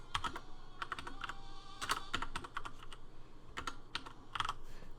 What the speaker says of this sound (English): type in all of its stats